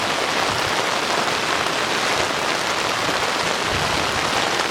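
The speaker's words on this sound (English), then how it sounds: "there's a thunderstorm coming in" Steady, close rain of an incoming thunderstorm pours onto surfaces near a river boat landing, a dense unbroken hiss that holds at the same loud level throughout with no voices.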